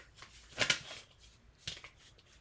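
Two quick rips of paper being torn by hand for a junk journal, the first a sharp double tear and the second a shorter one, close and crisp against a quiet room.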